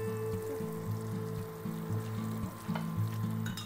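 Water from rinsing a mixer jar and spatula splashes into a hot pan of frying oil with potato, elephant foot yam and salted prawns, giving a strong steady sizzle with a faint low hum, close and without talk.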